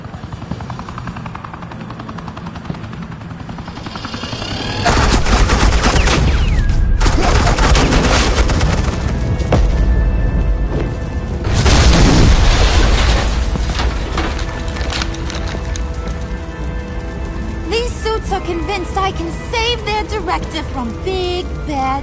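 Bursts of gunfire and explosive booms from a Batman-themed game fight, with a helicopter roaring overhead throughout, the loud firing starting a few seconds in and peaking midway before sharper rattling shots near the end.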